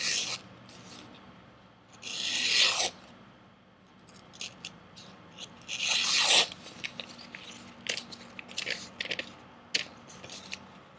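A sharp cKc Trailblazer knife edge slices through paper, giving two distinct rasping swishes followed by a series of shorter scratchy cuts, close and fairly quiet over a low hum.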